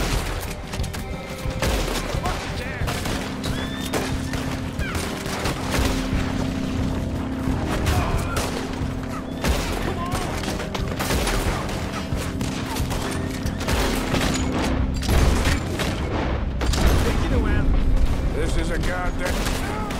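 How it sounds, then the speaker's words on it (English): Gunfire from the Red Dead Redemption 2 video game: a dense, continuous shootout with overlapping shots and booms throughout, mixed with game music and voices. "Shoot the gun, Arthur."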